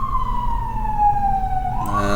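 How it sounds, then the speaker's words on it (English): A siren wails outdoors, its steady tone sliding slowly downward over a low rumble of traffic, loud and sustained. "and there's sirens outdoors."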